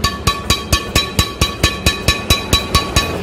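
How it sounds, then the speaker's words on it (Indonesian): Badminton shuttle struck again and again with a Yonex Astrofil racket strung with 0.69 mm Toalson string at 28 lbs, giving about a dozen sharp, evenly spaced pings close up, with no talk. "Kita dengerin dulu hitting sound dari senar Tolson yang kemarin saya senarin di raket Yonex Astrofil dengan tarikan 28 lbs guys"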